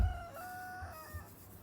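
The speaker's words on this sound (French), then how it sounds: "une poule." A hen gives a drawn-out, tonal clucking call with a couple of low thumps beneath it, moderately faint, with no speech.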